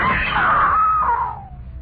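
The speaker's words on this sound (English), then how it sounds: "I screamed." A woman in an old radio drama lets out a single loud, high scream. It rises, holds, then trails off and fades within two seconds.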